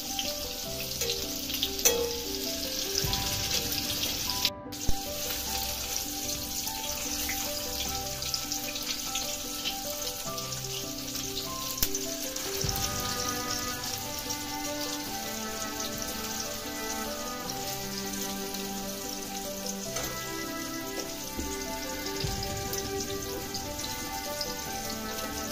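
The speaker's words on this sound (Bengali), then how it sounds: "অল্প একটুখানি হালকা করে ভেজে নিলেই হবে।" Paneer pieces frying lightly in oil in a pan, a continuous close sizzle with dense popping and spitting, steady in level, one sharp knock partway through, and no talking.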